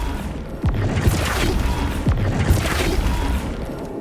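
Spell effects fire in a Harry Potter video game, with several separate impact-like booms and crashes that land about a second apart over a dense, continuous background.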